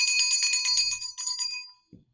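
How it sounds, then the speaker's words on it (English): A small hand bell rings in quick, bright shaking bursts, then stops, followed by a faint soft thump. "now we're going to use my mom's bell"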